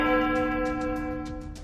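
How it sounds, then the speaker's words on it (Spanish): A church bell rings out with a sustained, humming resonance that slowly fades, a single deep toll decaying on its own with no voices. "De repente se escuchó la campana de una iglesia."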